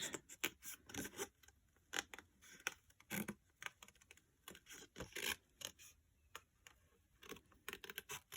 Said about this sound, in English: Definitely cutting the center circle of the 0 out.